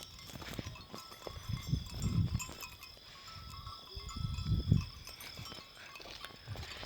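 A herd of sheep grazing at night: faint, scattered bleats and soft shuffling, with an occasional bell clinking, fairly distant against a low background hiss.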